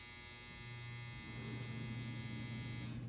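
A clothes dryer runs with a steady, close electric hum and buzzing drone that holds constant throughout, with no talk.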